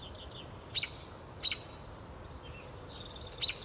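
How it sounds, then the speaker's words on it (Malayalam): Several birds sing from different spots around a flower garden in the morning: sparse, high, distant chirps and short calls over a quiet background hiss, with no talk. "രാവിലെ ഇരുന്നിട്ട് പല കിളികൾ പല സ്ഥലത്തിരുന്ന് നല്ല ഭംഗിയിൽ പാട്ടൊക്കെ പാടുന്നുണ്ട്"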